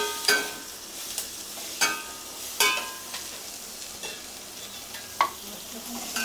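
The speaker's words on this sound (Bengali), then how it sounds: "এবার আমি এই বাটারটাতে পেঁয়াজটাকে একটু ভেজে নেব।" Onions frying in butter while a spoon stirs them, with a steady soft sizzle under a series of sharp scrapes and taps against the pan at irregular intervals.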